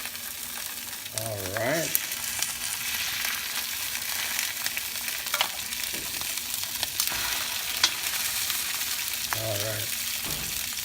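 Salmon fillet seared skin side down in a hot pan for lemon butter salmon, giving a steady loud sizzle and crackle throughout with occasional stirring clinks and a voice speaking briefly over it.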